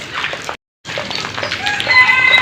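Chickens in a rain-soaked backyard coop cluck in short repeated calls, close and fairly loud, broken by a brief silent gap before the clucking resumes.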